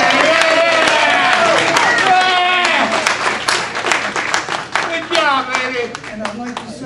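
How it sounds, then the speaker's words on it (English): Applause and clapping from a crowd at a hall of fame ceremony, with lively chatter and cheering voices layered over the steady patter of hands. "Corinne a good round of applause."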